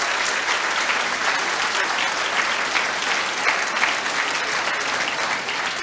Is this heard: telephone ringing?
no